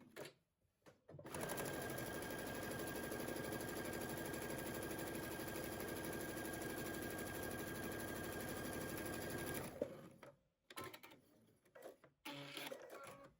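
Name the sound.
sewing machine stitching a 1/4 inch seam on sweater sleeve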